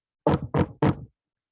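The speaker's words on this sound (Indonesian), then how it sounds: "Ketuk pintu" Three firm knocks on a door, evenly spaced and close, followed by silence.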